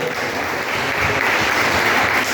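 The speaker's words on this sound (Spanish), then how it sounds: "Denle ese aplauso al Señor." Church congregation applauds during a sermon, a broad, continuous wash of clapping from many people that holds steady and fairly loud throughout.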